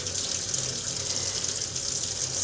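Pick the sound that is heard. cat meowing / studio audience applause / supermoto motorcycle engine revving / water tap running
water tap running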